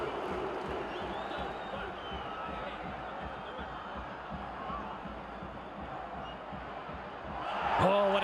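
A home crowd at an El Salvador versus Suriname World Cup qualifier roars steadily throughout, the broad stadium noise rising into a louder swell of cheering near the end as the home side wins the ball.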